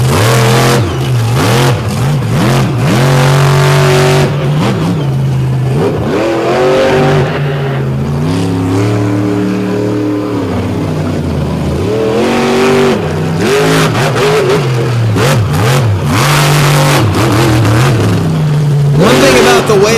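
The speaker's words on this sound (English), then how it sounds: "Corey Snyder in the Illuminator, giving them what they came to see, smoking the tires, keeping the momentum up." At a crowded outdoor motorsport show, the Illuminator race truck roars close and loud, engine revving up and down while its tires smoke and squeal, with a commentator talking over the noise.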